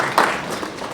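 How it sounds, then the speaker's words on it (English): An audience at a Poetry Out Loud regional finals gives a short burst of applause for a teacher, a brief patter of clapping from a crowd in a hall, fading within a second. "Give a small round of applause for Mrs."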